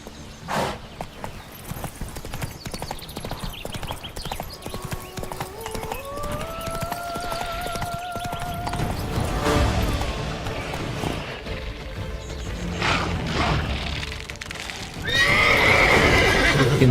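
Horse in The Witcher 3 galloping with steady clip-clop hooves, then letting out a loud drawn-out neigh midway, with game sounds and crashes around it and a louder burst near the end.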